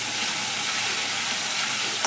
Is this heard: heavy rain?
no